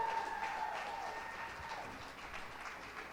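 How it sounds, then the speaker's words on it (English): A conference audience claps for panelists on a main stage, moderate and fairly distant, with a faint tone at the start and a voice briefly over the clapping. "Give them a round of applause, everybody."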